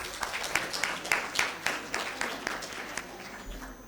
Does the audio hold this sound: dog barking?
no